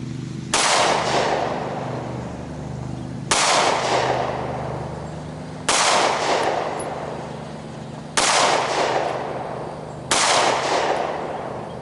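Five single shots from a Remington R51 9mm pistol firing FMJ ammunition ring out loud and close, a couple of seconds apart, each a sharp crack followed by a long decaying echo.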